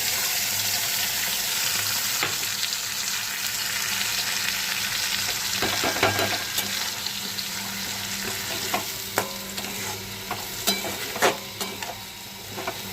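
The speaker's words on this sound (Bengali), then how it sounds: "মশলা একটু ভাজা ভাজা হলে" Spice paste sizzles steadily in a pan for an aloo capsicum chicken kosha, with scattered scraping strokes and clinks of a stirring utensil rising above the constant frying hiss.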